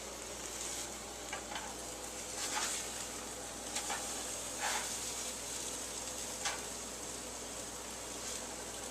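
French toast frying in a skillet, a steady faint sizzle with a few soft bursts of crackle as slices settle, continuous and close with no talking.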